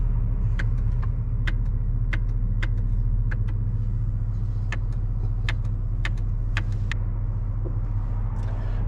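A 2003 Mercedes S500 AMG drives along a busy street, its engine a steady low rumble with constant road noise throughout and a few brief higher clicks or ticks over the top.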